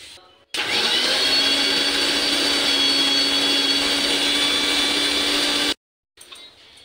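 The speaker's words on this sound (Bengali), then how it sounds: "150 গ্রাম বোনলেস চিকেনকে আমি মিক্সিতে গ্রাইন্ড করে নিয়েছি।" Mixer grinder whirring loudly and steadily for about five seconds while grinding boneless chicken into a paste with no added water, starting and stopping abruptly with brief quiet rattles after.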